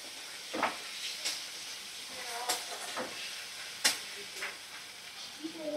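Spices and chopped tomato fry in a pan over medium heat, a soft steady sizzle broken by a few sharp stirring clacks, close and fairly quiet with no talk.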